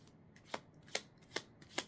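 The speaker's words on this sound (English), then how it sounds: "But we're going to shuffle." Tarot cards are shuffled in quick riffling bursts, four sharp slaps spaced evenly at close range against a quiet background.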